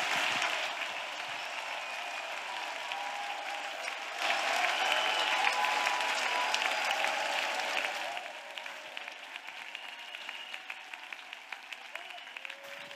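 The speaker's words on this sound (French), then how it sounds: "Let us clap for Jesus." A church congregation claps for Jesus, a dense, sustained round of applause from a crowd that swells briefly in the middle, then thins into looser, scattered clapping toward the end.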